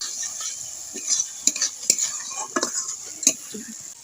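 A spoon scrapes and stirs spices frying in oil in a pan, set over a steady close sizzle. The stirring strikes come in irregular clinks and scrapes.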